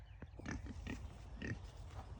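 Pigs in a 16 by 32 foot enclosure at a backyard garden farm grunt and snort in short, irregular bursts over a steady low rumble of wind or handling noise.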